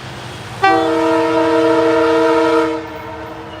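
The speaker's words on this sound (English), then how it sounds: "Check out this train." A train horn blasts close and loud for about two seconds, one sustained chord from a short single-car train, then cuts off over a low rumbling background.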